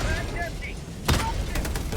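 Cannon fire and gunfire in the video game Helldivers 2, fighting Automaton dropships on Malevelon Creek, with one sharp boom followed by rapid shots, all under players talking.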